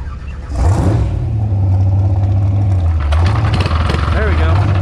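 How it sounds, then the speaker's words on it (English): A small mini drag bike engine catches and revs under light throttle, its whiny mid-pitched drone rising and falling near the microphone, with a brief sharper blip of revs toward the end. "Gotta give it a little bit of throttle while you're giving it"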